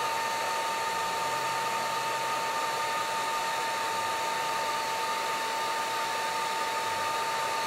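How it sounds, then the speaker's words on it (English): A hair dryer blows steadily to dry paint on an illustration, a continuous close whooshing hiss with a faint tonal whine, unbroken and even for the whole stretch. "Just hit that with a dryer."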